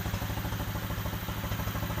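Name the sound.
pit bike engine idling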